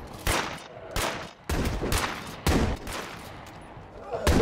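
Bursts of gunfire crack out in State of Decay 2, several loud separate volleys of shots over about four seconds, with a voice murmuring faintly underneath.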